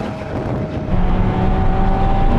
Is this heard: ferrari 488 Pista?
yes